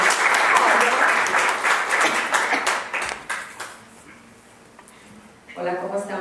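Audience at a libertarian panel event in Mexico applauds to welcome a speaker, a loud burst of clapping that fades over a few seconds before a voice begins speaking.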